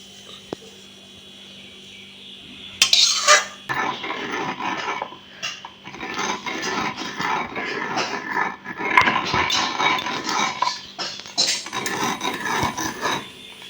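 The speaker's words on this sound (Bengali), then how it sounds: "এই যে মসুর ডালটা বাটা হচ্ছে, এটা কিন্তু একদম গুঁড়ো করে ফেলবেন না।" Dry-roasted red lentils being ground on a stone slab with a stone roller in a Bengali kitchen, giving steady rhythmic rasping strokes that stay close and fairly loud, with a sharper scrape near the start.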